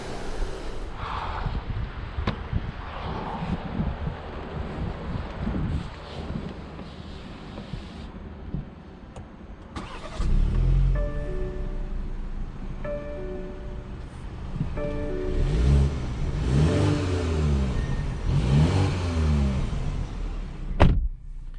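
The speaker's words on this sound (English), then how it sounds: "let's go ahead and take this X3 on a POV test drive and see how it does" A 2022 BMW X3 compact luxury SUV in dark graphite starts up about halfway through with a sudden surge of engine noise, then hums and revs steadily as it pulls away, with quieter rustling and cabin noise before the start.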